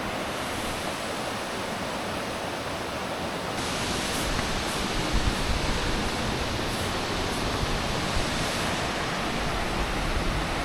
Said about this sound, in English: Tennessee has a lot of great waterfalls, and this one just so happens to be on the AT.